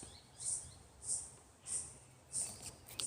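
Birds in Australia give a series of five high, clear calls at an even, roughly half-second rhythm, faint and distant over a quiet outdoor background.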